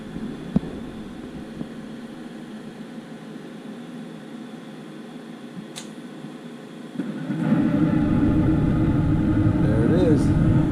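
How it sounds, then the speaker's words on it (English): A gas furnace burner lighting: a steady low hum suddenly swells into a louder broadband roar as the flame catches partway through, continuing as an even rumble. "And then my flame is going to come on."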